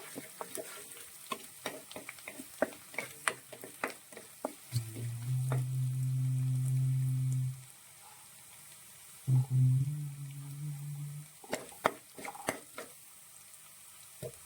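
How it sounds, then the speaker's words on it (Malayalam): Garlic sautéing in a pan for a tomato fish curry: two loud bursts of sizzling hiss, one longer and one shorter, set among sharp clicks and taps of stirring. "ഇത് നന്നായിട്ടൊന്ന് നമുക്ക് സോട്ട് ചെയ്തെടുക്കാം"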